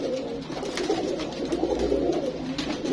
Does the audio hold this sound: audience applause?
no